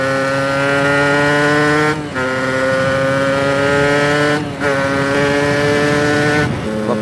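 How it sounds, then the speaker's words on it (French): Freshly repaired motorcycle engine, tuned a bit rich, idles and revs steadily and loud up close, a buzzing harmonic drone broken by two or three short throttle dips before settling back into its running note. "la moto remarche."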